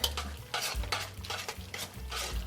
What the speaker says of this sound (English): you gotta stir and keep stirring